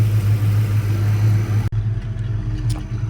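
A tired 1995 Ford Mustang GTS engine with over 160,000 miles idles while warming up, a loud, steady low rumble with a constant hum that dips briefly partway through, close by and free of talk.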